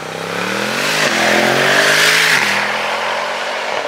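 A heavily tuned Mercedes-AMG E63 of nearly 900 horsepower, set in drift mode, revs loudly and close, its pitch climbing and dipping through two rises in a raspy, sustained roar.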